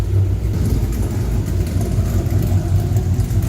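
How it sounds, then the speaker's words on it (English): A Ram R/T pickup truck engine, fitted with an exhaust cutout, idles steadily with a low, rumbling throb, close by and continuous. "I got the truck running right now."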